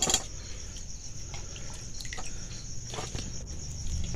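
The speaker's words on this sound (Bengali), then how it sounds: "এবার আমি এই আলুটাকে এরকম বড় ছাঁকুনির মধ্যে দিয়ে দেব, জলটা যাতে ভালোভাবে ঝরে যায়" Freshly washed potatoes sit in a large strainer as water drains out of them, giving a soft, steady trickle with scattered drips throughout.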